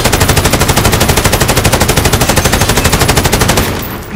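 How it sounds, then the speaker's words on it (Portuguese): Rapid automatic gunfire from a Call of Duty: Modern Warfare multiplayer match, a loud, steady stream of evenly spaced shots for several seconds that cuts off near the end, with no talk over it. "Estão atirando em mim!"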